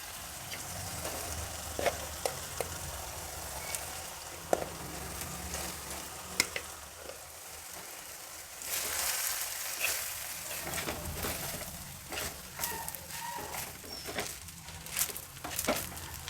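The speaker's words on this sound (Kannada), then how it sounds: "ಈಗ ಅನ್ನ ಒಗ್ಗರಣೆನಲ್ಲಿ ಹಾಕಿ ಮಿಕ್ಸ್ ಮಾಡಿದ್ದಾಯಿತು" Soft sizzling of cooked rice being stirred into hot tempering in a pan, with scraping, stirring strokes and occasional sharp clinks, the frying noise swelling midway; no voices.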